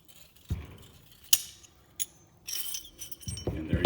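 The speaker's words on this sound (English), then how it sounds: "You're then going to take the guide bar, turn it until it releases." The bolt of a Mosin Nagant rifle is handled as its guide bar is turned and released, giving a few close, sharp metallic clicks and clinks with brief scraping between them.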